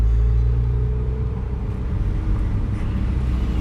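A 2018 Honda Accord 2.0 fitted with a Borla aftermarket exhaust idles or runs steadily, giving a continuous deep low rumble that stays loud and close throughout with no talk.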